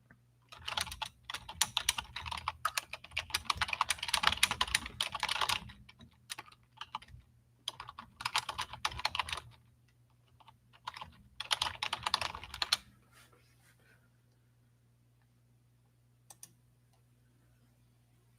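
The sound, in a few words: typing on a computer keyboard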